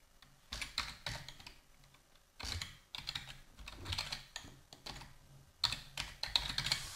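Someone types a file name on a computer keyboard, in three bursts of rapid key clicks separated by short pauses. The keystrokes are close and moderately quiet, with no talking.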